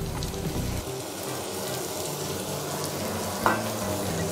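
Potatoes and a fried egg stirred together in a hot pan, a steady frying hiss with occasional spoon strokes and one brief sharper clink near the end.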